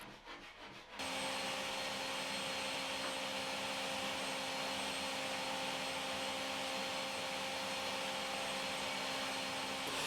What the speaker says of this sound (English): I did that on the table saw and slowly sneaked up on the right fit for the acrylic I wanted to use